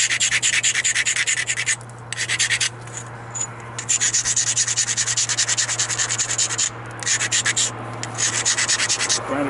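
A stone blade edge is ground during flintknapping, with steady, close abrasive rubbing strokes in a zigzag rhythm, broken by a few short pauses.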